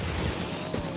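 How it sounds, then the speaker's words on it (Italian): Continuous gunfire in the video game Pressure, a dense, loud, unbroken rattle of rapid shots filling the whole short moment. "io continuo a sparare, non ho mai rilasciato il tasto dello sparo"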